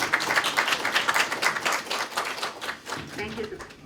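An audience at a homeopathic conference claps, the applause moderate and steady at first and then thinning out, with voices speaking over it near the end.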